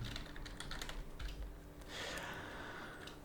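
Rapid keystrokes on a computer keyboard as an email address is entered, steady clattering taps close up with a brief pause midway, then continued typing.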